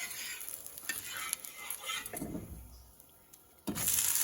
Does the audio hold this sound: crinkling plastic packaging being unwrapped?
no